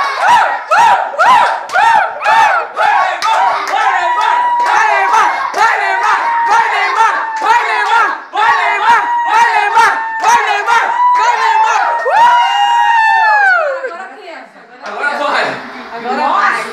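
A home crowd at a football match shouts and cheers in loud, sustained waves of massed voices, with chant-like bursts and a brief dip near the end.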